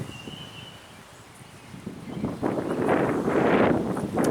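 Wind blows through a garden on a cool spring day, starting as a soft hush and rising into a strong, steady rushing gust with buffeting against the microphone.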